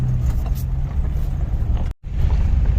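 A Jeep Grand Cherokee crawls slowly along a tight, makeshift off-road track, its engine a steady low rumble close by, broken by a brief moment of silence before the drone resumes.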